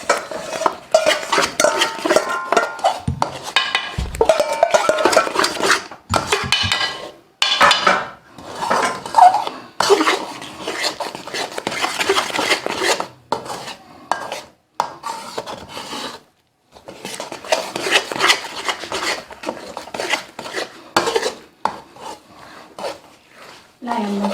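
Semolina halwa (suji ka tukri halwa) stirred in a pot with a spoon, giving steady scraping and rubbing against the metal in long bursts broken by brief pauses, close and fairly loud with no talk.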